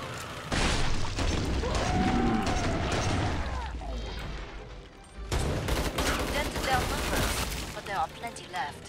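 Gunfire from a weapon in a zombie video game set in a circus with clown zombies, sustained loud rapid bursts with booms, a pause midway, then more firing, while someone talks excitedly over it.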